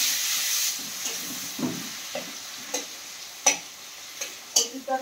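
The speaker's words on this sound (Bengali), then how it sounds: "কড়াই দিয়ে দিচ্ছি পেঁয়াজ, তারপর টমেটো আর আদা আর কাঁচা লঙ্কা" Onion, tomato, ginger and green chili frying in a wok for a prawn curry, with a hiss that is strong at first and then fades, broken by sharp spatula scrapes and clicks at close range.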